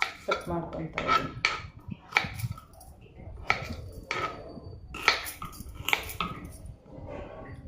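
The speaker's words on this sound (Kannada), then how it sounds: "ಅದೇ ಸೈಜಲ್ಲಿ ಇದನ್ನು ಸಹ ಕಟ್ ಮಾಡ್ಕೊತಾ ಇದ್ದೀನಿ" Knife chopping vegetables on a board in a home kitchen, a run of sharp irregular cuts and scrapes, fairly close, with a little background clatter and no talk.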